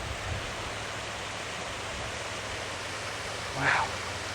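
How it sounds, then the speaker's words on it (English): Steady rushing water pours through small rapids along a sandy, silty creek, a constant broadband hiss close by, with a short louder splash near the end. "And the little rapids right there is really pretty too."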